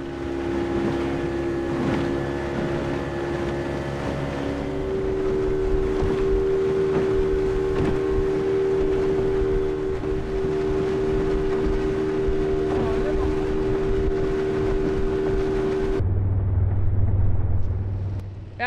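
Motorboat ride back to Hormuz town over open water, a loud steady engine drone with a sustained tonal hum that shifts pitch partway through, overlaid with wind buffeting the microphone and a brief lower rumble near the end.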